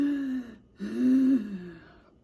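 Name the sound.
reader imitating a monster's panting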